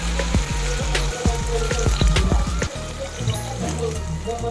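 Water poured into a hot pan of mutton curry with cucumber, Godavari style, makes a burst of rapid splashing and bubbling with clattering knocks, then settles into a steadier, quieter simmering sizzle, with no voices.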